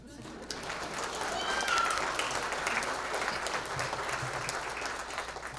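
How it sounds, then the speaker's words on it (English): Sustained applause from an audience at a high school top-20 recognition event, honoring a student's family and mentor, a steady dense wash of clapping with some crowd noise throughout. "Can I get a quick round of applause for the 2 most beautiful women in my life, Gigi and Grandma, and my mentor"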